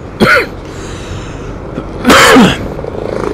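Two harsh coughs from a person riding along a road in Demak, Central Java, one early and a louder double cough later, close and fairly loud over steady traffic and engine noise.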